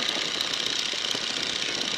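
Biplane engine throttled back to about 1800 rpm drones steadily and loudly throughout, with a constant buzzing hum and no pauses or voices.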